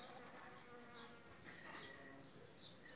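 Jandaíra stingless bees in their hive, a faint, close buzzing drone with individual bees briefly sweeping past, heard alone.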